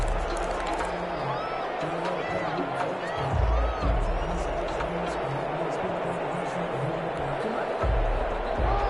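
Stadium crowd in an American football video game cheers and murmurs as a continuous roar, with a commentator talking over it.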